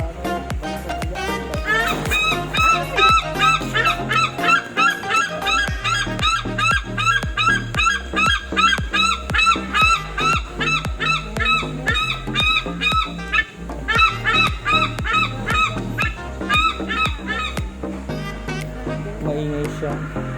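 Large fowl likened to turkeys honking loudly and repeatedly in a forest, a dense, continuous chorus of close, rhythmic honks and squawks with no pause.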